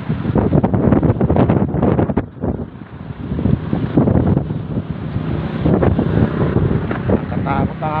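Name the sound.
strong wind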